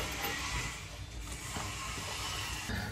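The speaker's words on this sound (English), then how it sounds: "I'll get this castle nut off." A ratchet wrench working a castle nut loose on the front end of a Dodge Ram 1500 pickup, heard close up as a steady mechanical clicking and creaking with no talk.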